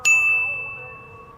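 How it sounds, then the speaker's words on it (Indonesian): A single bright notification bell ding rings out alone, sharp at the strike with a clear high tone that sustains and slowly fades over about a second. "nyalakan lonceng notifikasinya"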